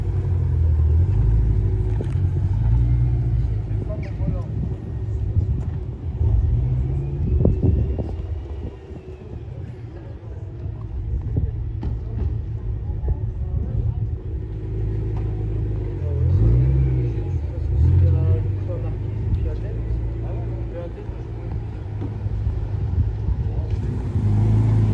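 A deep V8 engine rumbles loudly, revving up and down with a heavy, throaty growl.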